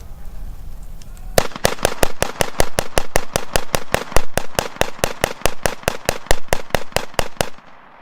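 An M1 carbine fired rapidly at a live-fire range demonstration of Korean War weapons, a long steady string of about thirty loud, sharp cracks at an even fast rhythm, ending abruptly in silence.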